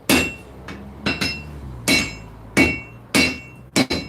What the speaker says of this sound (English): There's a reason I'm forging on this part of the anvil.